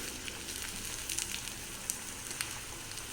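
Mustard seeds and spices crackling in hot oil for a tempering, a dense continuous sizzle with scattered sharp pops and spits close by, with no talking.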